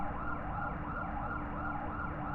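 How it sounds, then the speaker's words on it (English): Police car sirens wail continuously in the EarthBound video game, with a steady layered sweep heard at a distance, with no talking over them. "I hear cop cars."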